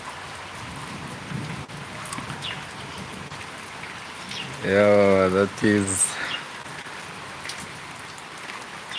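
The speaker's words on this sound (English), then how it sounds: "I can see it's raining." Steady rainfall patters down throughout during a rainy season, a continuous wash of drops with a brief burst of nearby speech and faint birdsong partway through.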